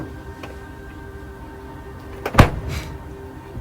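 A single hard slam of a Toyota Hilux door lands as one loud, sharp impact a little past the middle, close to the mic, with quiet background before and after.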